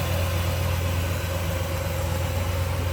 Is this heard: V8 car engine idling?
yes